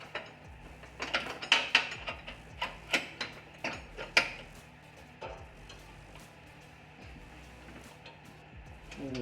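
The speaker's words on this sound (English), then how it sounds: "Big 3/8" ratchet." A big 3/8-inch ratchet turning on the belt tensioner of a John Deere X3-5 series tractor mower deck, a run of sharp metallic clicks in quick bursts, then quieter handling sounds, close and with no talk.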